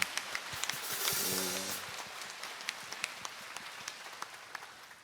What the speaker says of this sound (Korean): 다시 한번 우리 찬양팀에게 감사의 박수 한번 보내드립시다